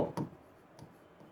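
Pen on paper during a handwritten maths lesson: a few faint, brief scratchy strokes and taps spaced irregularly, quiet and close, with no voice over them.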